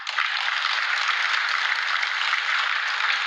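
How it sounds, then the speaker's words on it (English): Warm audience applause at a university charter award ceremony at the Nairobi State House, a continuous, dense wash of clapping from a large crowd at steady volume. "I kindly invite everyone to join me in giving a warm round of applause to these distinguished"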